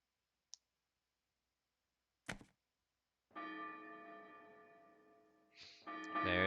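A bell rings in the Trails in the Sky FC video game as a royal banquet is about to begin, a sustained resonant tone with lingering overtones following a couple of sharp clicks, then a second louder strike near the end.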